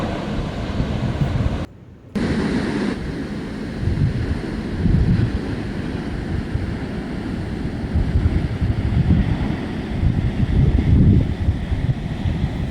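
Ocean surf and wind roll continuously at a seaside cemetery, a steady rumbling wash with gusty microphone buffeting that swells and fades, briefly cutting out near the start.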